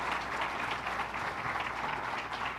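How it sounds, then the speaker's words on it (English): Audience applause fills a packed room at the Great New York State Fair, a dense, steady clapping from a large crowd that holds at an even level throughout without pause. "let's give him a round of applause, Commissioner Richard Ball"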